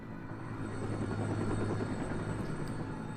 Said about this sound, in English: So who's on the chopper?